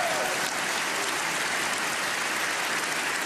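Dense, steady applause from a large rally crowd in a packed hall, filling the whole stretch at an even loud level with no pauses and no voices rising above it.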